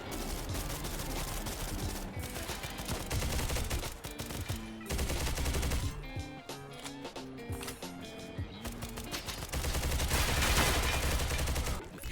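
Rapid shotgun blasts and other gunfire in a video game firefight near the Forge-11 centrifuge, loud bursts following one another throughout over a busy game soundscape.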